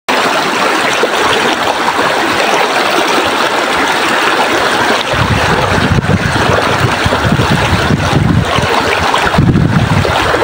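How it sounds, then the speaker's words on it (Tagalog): Sea water and waves along the shore at Baybay City, Leyte, a loud steady rush of surf with wind buffeting the microphone, growing heavier in the low end after the midpoint, with no voices. "Nakaka-relax yung sounds ng ano, tubig."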